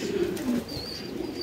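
Black Pomeranian pouter pigeons, a fancy breed, cooing in a low steady murmur from close by, with a faint higher chirp joining partway through; no talking.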